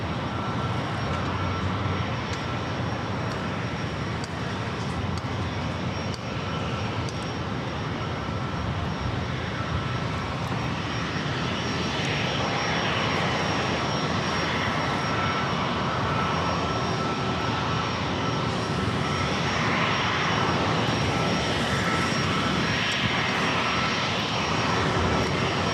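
Airplane engines roar steadily at San Diego airport, a loud continuous broadband rumble that holds for the whole stretch without letting up.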